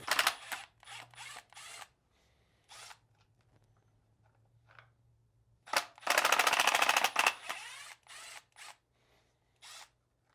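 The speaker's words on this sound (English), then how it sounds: "Now, remove these two screws." Screws are backed out of the drain pump cover on a Fisher & Paykel Smartpump washing machine by a powered driver. It whirs in short bursts with one longer run, close and clear between quiet pauses.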